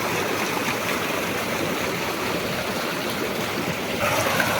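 Irrigation water pours steadily into a farm field channel and spreads across the plot, a continuous close rushing flow with no voices.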